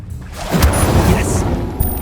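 A fiery Incendio spell blast in Hogwarts Legacy, a single loud booming burst that swells and lingers with a crackling roar, heard up close over game ambience.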